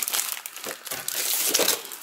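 Close, steady crinkling of Stamperia scrapbooking paper packs being handled, with crackly rustles rising and falling and no voices.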